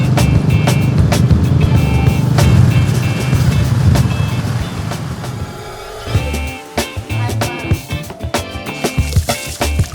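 Riding in a wooden wagon towed behind a motorcycle through Siem Reap, Cambodia: a steady engine drone and road rumble that fades midway into scattered clunks and bumps of the wagon.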